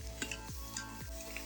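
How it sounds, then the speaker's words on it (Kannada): Onion, carrot and beans sauté in a pan with a pinch of asafoetida, a soft continuous sizzle under a couple of low stirring scrapes, close and fairly quiet. "ಈಗ ಇದಕ್ಕೆ ಈರುಳ್ಳಿ, ಆಮೇಲೆ ಕ್ಯಾರೆಟ್ ಮತ್ತು ಬೀನ್ಸ್ ಹಾಕಿ ಚೆನ್ನಾಗಿ ಬಾಡಿಸ್ಕೊಳ್ತಾ ಇದ್ದೀನಿ"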